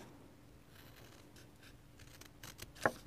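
Scissors snipping through paper to cut out a Valentine letter shape in an art studio, faint quiet handling rustles leading to a single crisp cut near the end.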